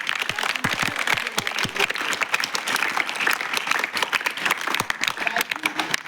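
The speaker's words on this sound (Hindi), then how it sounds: "तो हम चाहिए एक बार जोरदार ताली आप लोग।" An audience at a cycling-campaign workshop gathering bursts into loud, sustained applause, dense clapping from many hands filling the room steadily throughout.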